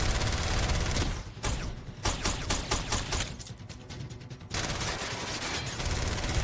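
A Marvel film firefight involving Black Widow has Bucky launching grenades amid loud, dense gunfire, with sustained volleys, a stretch of rapid separate shots and then another heavy continuous barrage.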